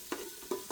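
Cumin seeds crackling and frying in hot oil for Uttara Karnataka hograni, three short popping bursts over a steady low sizzle, close and fairly quiet with no voices.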